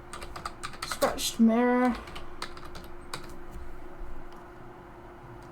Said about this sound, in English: I'm going to type in rusty, old, scratched